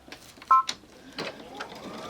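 A sewing machine stitching down the edge of a shop hop bag in a few short whirring bursts, with small clicks and faint background sounds, close by.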